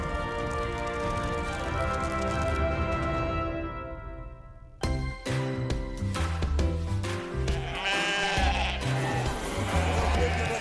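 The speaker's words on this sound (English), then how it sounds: "The sheep here are very good." Sheep and lambs bleat repeatedly at a farm in the Qilian Mountains region, several calls overlapping amid music and steady background noise.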